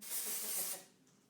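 Short burst of dry shampoo sprayed onto hair, a close hissing aerosol spray lasting under a second before it cuts off.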